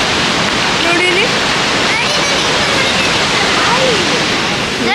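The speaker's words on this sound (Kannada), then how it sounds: "ನೀರೆಲ್ಲ ಬೀಳ್ತಾ ಇದೆ" Mallalli Falls waterfall in Coorg roars as a loud, continuous broadband rush of falling water heard from close by, with faint bird calls barely rising above it.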